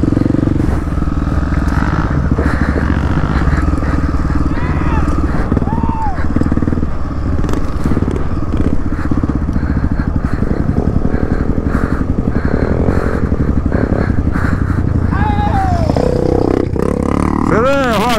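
Motorcycle on a dirt trail ride near Formosa do Sul, Santa Catarina, a loud continuous engine roar with rising revs and bumps from the rough ground, while people talk over it.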